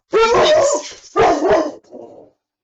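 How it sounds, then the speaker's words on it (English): A dog barks hard and loud twice at close range, then lets out a softer, lower yelp as it trails off. "The dog really barked really hard or loud."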